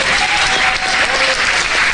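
A church congregation applauds for the Lord after a sermon point, a dense, steady wash of many hands clapping at close range with no break.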